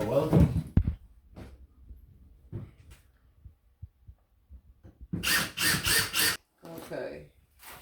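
A cordless screw gun drives a single screw during a bathroom remodel, several short whirring bursts in a row near the end, with brief scattered clicks and quiet pauses before it; people talk nearby.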